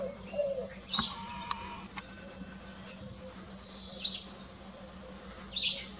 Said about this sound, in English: you can hear the beautiful birds singing around